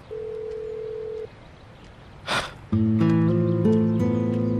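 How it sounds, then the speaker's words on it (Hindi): An unanswered phone call: a steady ring tone sounds, breaks off, then after a brief rustle a layered electronic phone melody plays on loudly to the end. "आयशा, कॉल रिसीव करो। क्यों नहीं कर रही तुम कॉल रिसीव?"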